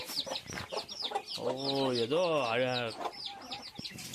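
Hens cluck in short, repeated bursts near a farmyard, while a person's drawn-out voice rises over them midway and then fades back to the clucking.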